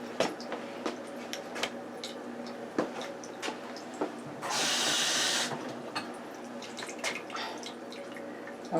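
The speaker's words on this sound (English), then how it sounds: "Okay, now I'm going to add a cup of water." Water pours from a cup into thick stuffing batter for Thanksgiving in one steady splashing stream lasting about a second. Soft drips and kitchen clicks come before and after it, with no talking.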